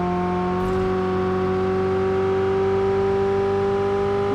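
Steady vehicle engine hum while driving in the mobile battle royale game BGMI, a continuous droning tone at an even level with no speech over it.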